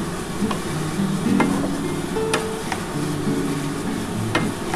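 Cabbage with turmeric sizzles in a pan and is stirred. A constant crackling fry is broken by sharp scrapes and taps of the spoon on the pan.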